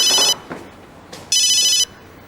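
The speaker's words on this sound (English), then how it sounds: "that's the phone" A telephone rings in two bursts of bright electronic trilling, with a short gap between them and quieter room sounds in the pause, no talk.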